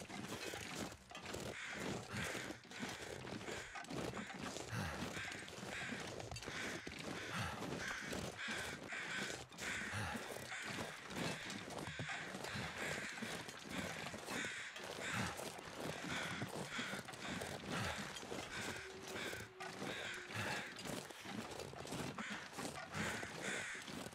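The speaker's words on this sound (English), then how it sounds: "Where are these crows?" Crows cawing in The Long Dark, a survival video game, with repeated harsh caws over a steady wind-like background, heard alone and fairly faint.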